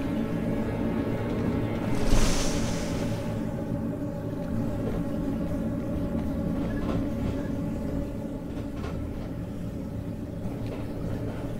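Moving train in the video game Blackwood Crossing: a steady low rumble and hum of rolling carriages with a brief swell and faint creaks, continuous and unbroken throughout.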